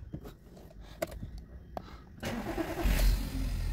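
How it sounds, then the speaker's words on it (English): A Seat Ibiza 1.2 TSI cranks and starts after a few quiet clicks, then settles into a steady low idle, close and fairly quiet. "So now I'm going to start the engine."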